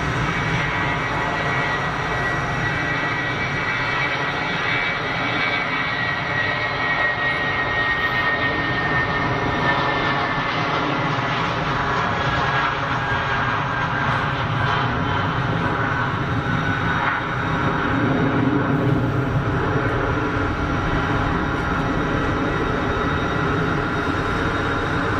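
A British Airways shuttle jet departing Geneva Airport gives a sustained, fairly loud engine roar with a whining tonal edge, steady for the whole stretch and swelling slightly near the end, heard alone.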